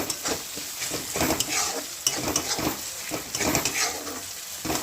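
Tomatoes frying and being stirred in a pan for pav bhaji, a continuous bright sizzle broken by repeated scraping strokes of the spoon against the pan, close and steady throughout.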